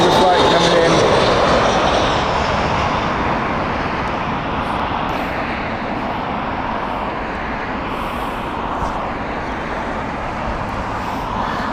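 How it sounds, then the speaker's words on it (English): An airliner landing at Heathrow Airport roars loudly overhead at first, then fades into a broad, sustained distant rumble mixed with traffic, with people talking over it. "That was the Pisa flight coming in."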